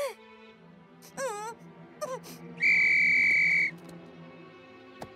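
A single sustained whistle blast cuts in loudly for about a second, following brief cartoonish voice sounds.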